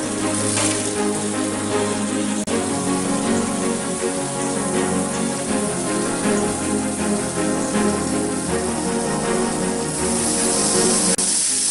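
Pieces of pointed gourd sizzle loudly in a hot pan for a potol posto dish, a steady dense hiss with crackle that runs without a break and swells slightly toward the end, with no talking.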